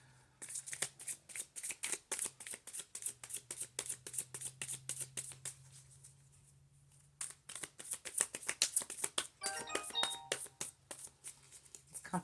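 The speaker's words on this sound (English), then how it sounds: "let's shuffle them up a little bit, see what we get." Tarot cards being shuffled by hand in rapid, rhythmic riffling bursts that repeat steadily, pausing briefly near the middle before resuming, close and crisp with no talking.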